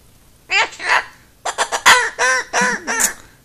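A pet bird at home gives a run of harsh, squawking calls in two bursts, loud and close, with brief pauses between the cries.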